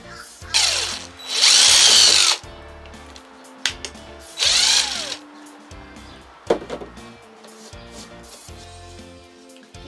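A power drill bores holes in wood for a DIY mailbox, with several loud whirring bursts of differing length separated by quieter pauses, close by and without speech.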